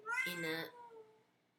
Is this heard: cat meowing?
yes